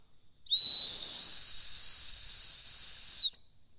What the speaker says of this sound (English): loud warning whistle